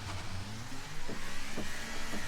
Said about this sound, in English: Oh, Ferrari power engine.